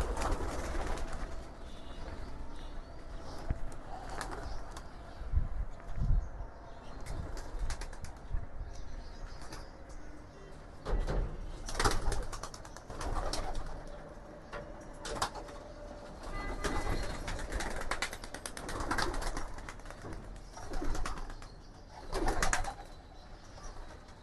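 Racing pigeons are let out one by one from their loft on a training day, with cooing and bursts of flapping wings over a continuous rumbling background, close and uneven, without any talk.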